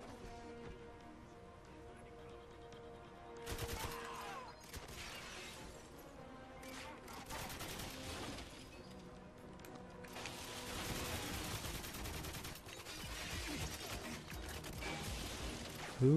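Gunfire crackles in 007 GoldenEye Reloaded at the Arkhangelsk facility, with bursts of shots and impacts arriving in clusters over a game backdrop. A voice speaks briefly between the volleys.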